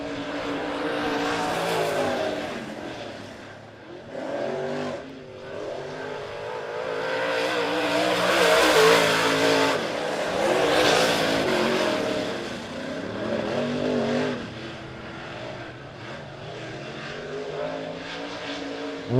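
Modified race cars roar around a dirt speedway during heat races at Monett Motor Speedway, with a steady, dense engine drone that swells and fades as cars pass, distant and continuous.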